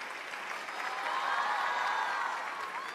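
Studio audience applauding on a Chinese variety show after a daring stunt, a dense steady clapping crowd heard at moderate distance throughout, with a faint voice mixed in.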